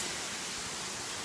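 Blue Hole Falls in Tennessee roars as a steady, dense wash of falling water, close and uniform with no pauses.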